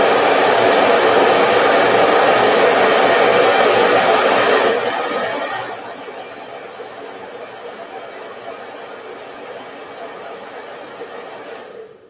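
A hair dryer with a diffuser blows loudly and steadily, then drops to a lower, quieter setting about halfway through and keeps running.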